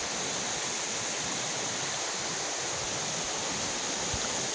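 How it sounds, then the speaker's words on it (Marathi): A spring-fed mountain stream in the Konkan hills flows steadily, making a continuous, close rush of water with no voices. "हा पाण्याचा झरा आहे जो वाहत आहे।"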